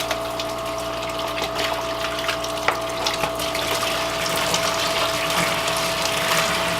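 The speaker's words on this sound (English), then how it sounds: "Let's go ahead and watch in real time how quickly this empties the tank" A pump drains aquarium water through a roughly eight-foot hose with a continuous, loud rushing gush and a steady motor hum that hold without a break.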